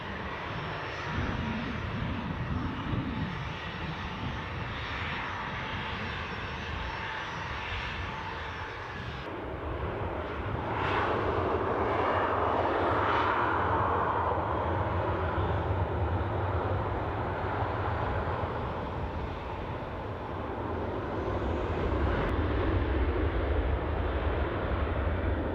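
Airliner jet engines at Newcastle Airport roar continuously throughout, loud and broad, swelling in intensity midway as the aircraft moves, heard from a distance with no talking.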